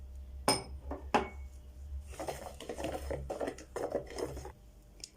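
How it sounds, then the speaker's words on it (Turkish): Cake batter with oil, baking powder and vanilla is stirred in a bowl, giving a couple of sharp clinks followed by quick, uneven scraping and tapping at close range. "Vanilyamı da ekleyip karıştırıyorum."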